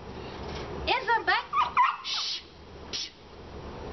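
A dog shut in a crate whimpers and cries in a series of high, wavering yelps, close by, with a person talking around it.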